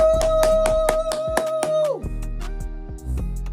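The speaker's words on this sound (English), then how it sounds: "And we gonna clap it up for both sides." Rhythmic hand clapping, evenly spaced sharp claps repeating over a loud music track with a sustained tone that drops off midway, close and prominent.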